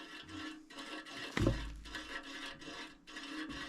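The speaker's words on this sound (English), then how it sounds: "So I think this would be called our idler wheel. First thing we'll do is just spin it." An idler wheel bearing on a Wood-Mizer LT40 Super Hydraulic sawmill is spun by hand, giving a close, steady rasping whir with a rubbing belt. There is one sharp knock partway through.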